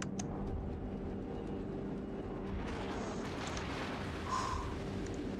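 Shells fired by the Bismarck land nearby in a naval warship battle game, a sustained heavy low rumble with muffled blasts and a brief higher whine near the end, with no voices.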